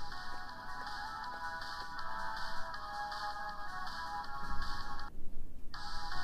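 A phone ringtone rings close and loud in repeated electronic chiming phrases, with a brief gap near the end before it resumes, over faint background noise and no speech.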